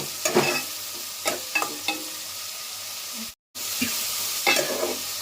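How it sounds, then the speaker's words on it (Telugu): Onions and dried prawns frying in a pan, a steady sizzle with a few sharp scrapes and clinks of a stirring utensil, with a brief dropout midway. "ఇవి బాగా వేపుకోవాలండి ఉల్లిపాయలు"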